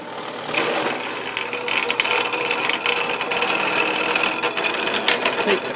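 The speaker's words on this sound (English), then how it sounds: "The drill press is kind of noisy, so after I turn it on here I don't think you'll be able to hear me anymore" A drill press cuts through aluminum or steel, its steady motor whine overlaid with gritty, irregular cutting rasps and small clicks, close and continuous throughout with no talking.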